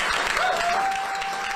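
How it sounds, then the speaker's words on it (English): A crowd at a political victory rally claps for labor union leaders, a loud, continuous burst of applause with faint voices mixed in. "Give them a round of applause."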